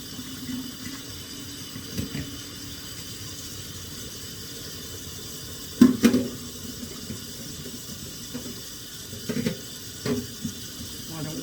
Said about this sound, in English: Now let's do cold water.